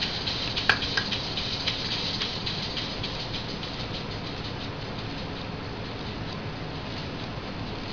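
Lego two-cylinder pneumatic engine running fast with a steady, dense mechanical rattle and hiss, constant in level throughout, with one brief click near the start.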